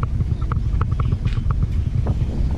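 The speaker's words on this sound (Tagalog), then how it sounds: "Malamig yung makina, mababa yung idle" A cold Kia Pride car engine idles low and steady, a continuous low rumble with slight rhythmic pulsing and some wind-like hiss, no voices.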